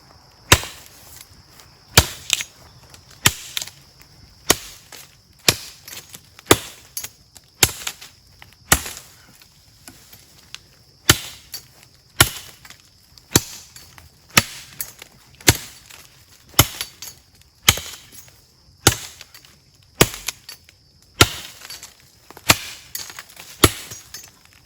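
A Gerber Gator machete chops into a five-inch buckthorn hardwood tree outdoors, sharp woody thwacks landing in a steady rhythm of roughly one strike per second, close and loud with quiet pauses between blows.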